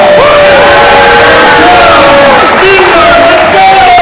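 A crowd at a yo-yo contest cheering and shouting, loud and close, with voices yelling and whooping over one another in a continuous roar.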